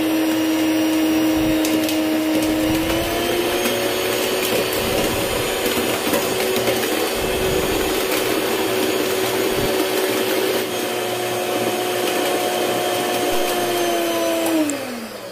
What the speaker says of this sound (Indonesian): kemudian mixer lagi dengan kecepatan tinggi